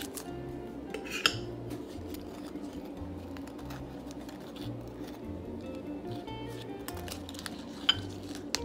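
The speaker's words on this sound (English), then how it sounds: "Gonna put these in the muffin tins now." Pumpkin muffin batter is spooned into metal muffin tins in a home kitchen, with quiet scattered clinks and scrapes of utensils against metal under a steady low background hum.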